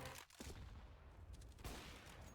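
Rapid burst of gunfire in Counter-Strike, a couple of sharp cracking shots rattling out close and loud, with no talking over them.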